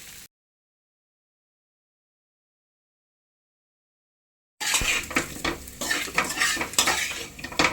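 Taro root (colocasia) fries in oil in a pan, starting after about four seconds of silence with a loud, close sizzle and repeated scraping and clinking of a spoon as it is stirred.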